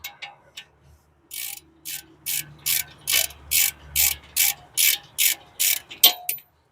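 Hand ratchet clicking in a fast, steady run of about a dozen bursts while loosening brake bracket bolts on a 2020 Nissan Pathfinder AWD, close and loud with no talking.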